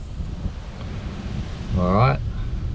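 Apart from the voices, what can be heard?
strong wind outdoors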